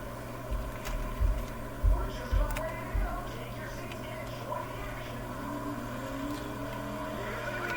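Sprint car engine from the dirt-track racing game World of Outlaws '23 revs up to the rev limiter, a loud raw buzzing roar with a few sharp bursts of throttle early on, then a steady drone with a voice talking over it.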